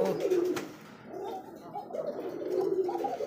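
Pigeons at a farm give soft, throaty cooing calls that roll on continuously at close range, with no voices over them.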